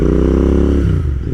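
A Royal Enfield Interceptor 650 motorcycle with S&S slip-on exhaust gives a deep, throaty rumble, loud and close, idling steadily before blipping slightly lower toward the end.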